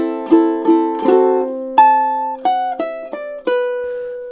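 A ukulele plays measures 10 and 11 of a theme, starting with quick strummed chords and moving into a series of separate plucked notes, each attack bright and ringing, with no voice over it.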